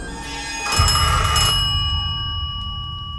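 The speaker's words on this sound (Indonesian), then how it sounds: "telepon di rumah kakek berbunyi" A single short burst of bell-like house telephone ringing, bright and metallic, followed by a lingering electronic hum.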